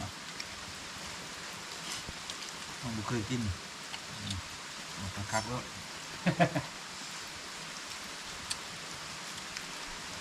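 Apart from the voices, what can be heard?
rain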